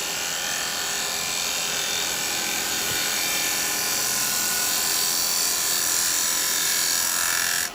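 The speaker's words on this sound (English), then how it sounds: "So you can shear cut like this, or you can shear cut this way" A woodturning chisel shear-cuts wet wood spinning on a lathe, producing a steady, loud, unbroken hiss and whir that continues for the whole stretch without pauses or talk.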